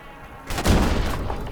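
A bomb from a Ju 87 dive bomber explodes in the People's Playground game, a sudden loud, deep boom that rumbles on and decays over about a second.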